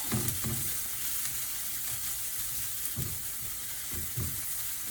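Dry spices for a salmon curry sizzle and fry in a pan while being stirred, a steady crackling hiss with soft low scraping knocks from the spoon at intervals throughout.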